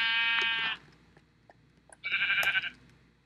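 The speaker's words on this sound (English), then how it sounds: "Sheep." Two bleats from a Minecraft sheep, the first ending around three-quarters of a second and the second following after a pause, clear and close over quiet background.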